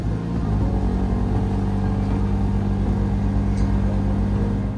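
An abandoned Scion FR-S, fitted with a fresh battery, idling steadily after starting, a close, loud, even engine rumble with a regular low pulse and no voices.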